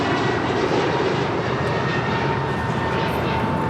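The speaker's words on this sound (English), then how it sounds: "This is American Airlines 1245 departing to Philadelphia on an A321neo" American Airlines A321neo departing LAX for Philadelphia: a steady, loud jet engine roar filling the whole short stretch, with no voices over it.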